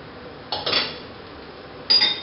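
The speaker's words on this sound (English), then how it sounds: "our pot has come back up to a boil, so I'm going to give it one more stir" Two quick metallic clinks of a spoon against a pot as quinoa is stirred at a boil, close and brief, with no talking.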